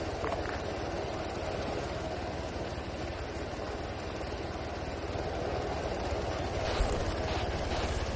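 Military helicopter during a fast-rope squad drill, a loud continuous rotor and engine roar with dense broadband wash filling the whole stretch, no talk heard.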